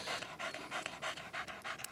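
A tracking dog pants rapidly after a search, in quick rhythmic breaths close by with no talk.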